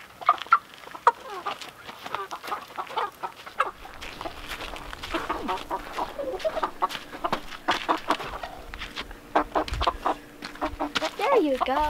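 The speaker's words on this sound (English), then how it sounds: "all of the chickens have been transferred out of that little shanty town I had them in" Backyard chickens clucking and squawking in agitated bursts while being handled and moved into a newly built DIY coop run, close by, with people talking over them throughout.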